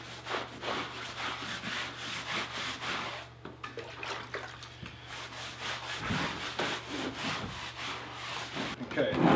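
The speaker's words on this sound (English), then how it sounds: "you're just wiping it off with a damp sponge" A damp sponge wipes across plywood in repeated rhythmic rubbing strokes during a heated-floor thinset installation, steady and fairly close with a low hum underneath.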